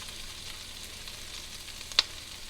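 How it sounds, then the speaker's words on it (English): Onions sauté in a pan with a soft, steady sizzle, faint and continuous, broken by one brief sharp click. "just get the onions cooking a little bit before the radishes"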